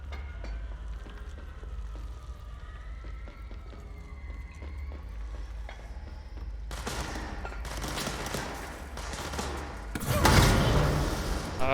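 Enemy gunfire in the action game Control, with dense bursts of shots cutting in over a low rumbling backdrop and swelling to a loud, sharp volley near the end.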